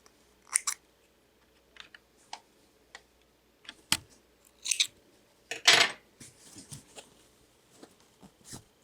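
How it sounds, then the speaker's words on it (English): Scissors snip loose sewing threads after serge stitching on a skirt, a string of sharp, close metallic cuts at irregular intervals with one louder, longer snip partway through, no voices. "snip your threads"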